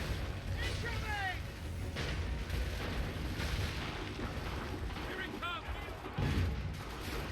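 Gunfire and booming cannon blasts in Assassin's Creed 3 rumble continuously under a dense, loud battle din, with a few sharper reports standing out near the end.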